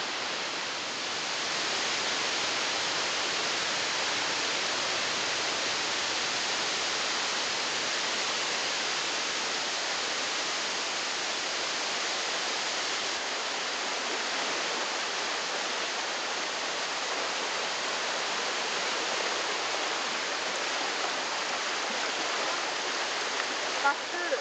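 Spring water gushes from the ground near Mount Fuji, a constant, full rushing roar, close and steady throughout with no pauses.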